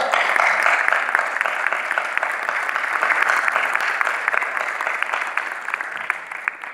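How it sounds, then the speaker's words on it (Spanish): Audience applause at a short film festival in Torrelavega, a steady dense wash of many clapping hands sustained for several seconds, fairly loud and close throughout. "Un aplauso para él, por favor."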